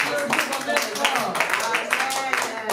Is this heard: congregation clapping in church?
yes